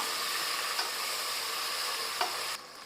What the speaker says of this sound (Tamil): வெட்டி வச்சிருக்கிற ஒரு தக்காளியை நம்ம சேர்த்துக்கிறோம்